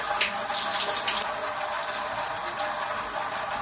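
Shower water pours steadily in a bathroom as someone stands under the warm spray applying a hair mask, a continuous broadband hiss with small splashy fluctuations and no talking.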